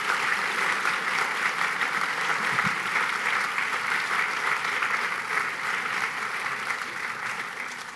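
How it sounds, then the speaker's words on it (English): Sustained audience applause at a literary festival talk, a dense, even clatter of many hands filling the room for several seconds and fading slightly at the end, with no voices over it. "we have a round of applause."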